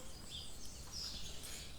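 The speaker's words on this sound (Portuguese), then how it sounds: "Ao som dos pássaros, vocês vão ouvir galos, pássaros, provavelmente os cachorrinhos também." Birds chirp outdoors in the morning, a few faint, scattered high calls over a quiet, soft background hiss.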